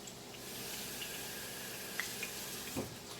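Tap water running into a kitchen sink while salmon is rinsed, a faint steady hiss with a couple of small splashes and clinks.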